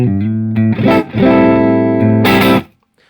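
An Ibanez TQM1 electric guitar plays sustained clean chords through a Laney IRT SLS amp on its clean channel, a few strummed notes ringing loudly before cutting to silence.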